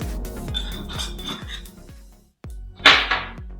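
Potatoes being tossed with curry powder in a bowl, a steady run of metallic clinks and taps up close, then a brief louder scrape and rattle after a short pause.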